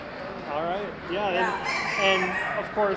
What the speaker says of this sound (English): I hear some roosters crowing.